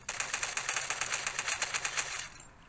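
Rapid bursts of video-game gunfire as players shoot zombies in Death High, a steady automatic rattle for about two seconds that cuts off near the end.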